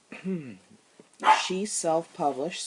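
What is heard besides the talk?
dog barking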